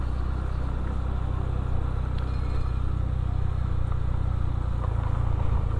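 A couple of motorcycles idle in a parking area at a hypermarket, a steady low engine rumble that holds evenly throughout with no talk over it.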